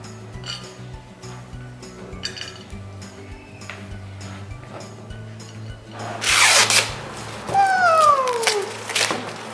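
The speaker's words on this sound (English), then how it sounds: "Now we will put the seeds into the bowl" A rapid rush of small hard corn kernels pouring and rattling into a bowl, a burst of clinking that follows some quieter handling sounds.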